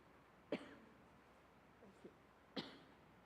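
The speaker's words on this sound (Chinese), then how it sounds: "对不起，我有点想咳嗽。" Two sharp coughs a couple of seconds apart, with a small throat sound between them, come from a person in a quiet church service hall, fairly close but soft overall.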